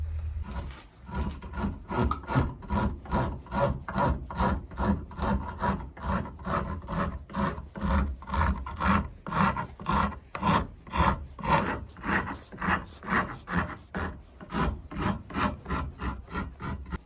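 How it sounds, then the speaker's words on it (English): A hand rasp files a rough-cut wooden heart Christmas ornament, working with the grain in steady back-and-forth strokes: a dense, rhythmic scraping that carries on without pause, close and moderately loud, with no talking. "So as I file away with this wood with the rasp, I'm trying to go with the grain."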